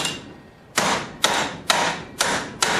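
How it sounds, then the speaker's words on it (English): A hammer strikes a bent metal part clamped in a vise to straighten it, five sharp ringing blows at uneven spacing with a short pause before the first. The hits are close and fairly loud, with no talking. "took a hammer"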